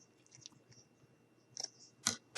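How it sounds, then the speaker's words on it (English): Scissors snip through a thin strip of Velcro in a quiet room, making a few soft crisp clicks and then two sharper cutting crunches close by. "I'm just going to cut a thin piece of that Velcro."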